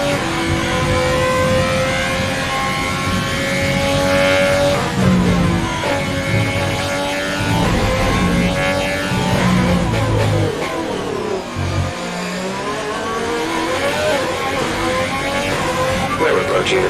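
Formula 1 race car engine in the F1 2020 video game at the US Grand Prix, a loud sustained whine with shifting revs running the whole way, overlaid by a team radio voice.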